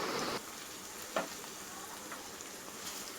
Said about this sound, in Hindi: अब हम इसमें ये कलेजी ऐड कर देंगे।